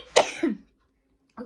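A woman's single close, harsh cough followed by a shorter throat-clearing burst, then silence in a quiet indoor room, with a brief faint sound at the end.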